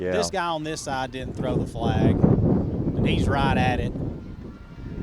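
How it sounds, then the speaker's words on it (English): Gusting wind buffets the microphone at an outdoor high school football game, a steady broadband rumble that rises under and after commentators talking. "The noise you're hearing, boy, it's been the wind picked up after around the first quarter, and the wind has been gusting"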